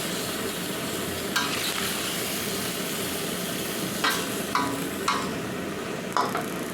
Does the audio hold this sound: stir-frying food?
yes